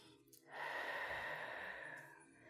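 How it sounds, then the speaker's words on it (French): A single deep inhale during a yoga session for breast cancer, a close, breathy rush of air that swells after a short pause and fades out over about two seconds, with no talking. "Inspirez."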